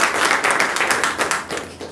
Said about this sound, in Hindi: सारे लोगों के लिए एक बार और ताली बजाएं